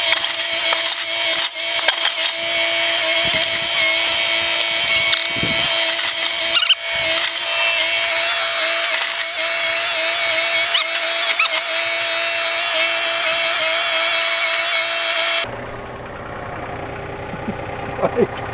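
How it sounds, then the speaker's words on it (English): An excavator scrapes soil at a culvert with a constant droning engine and scraping, rattling knocks. The noise runs loud and steady before dropping off near the end. "I'm giving it all with this machine. Let me scrape this way and see if I can find anything else over here"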